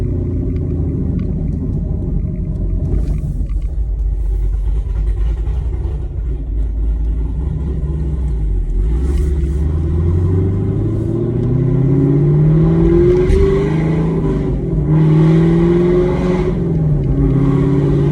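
Deep V8 rumble from a 2019 Chevrolet Camaro SS with a Borla Atak exhaust, cam and headers, loud and close, holding a throaty idle before rising and falling through several revs.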